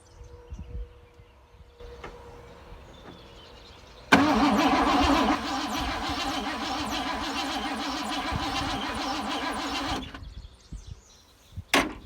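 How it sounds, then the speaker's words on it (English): A 1986 Ford F-150 that sat for twenty years cranks after a quiet pause, then its engine catches and runs loudly and steadily for about six seconds before shutting off, followed by faint clicks. "let's see if we can get it to crank over now"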